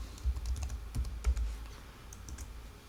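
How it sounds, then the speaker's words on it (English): Keys clatter on a computer keyboard in a short burst of quick, close taps, a few louder strokes standing out before the typing trails off into quiet. "we're just going to type in MailChimp over here."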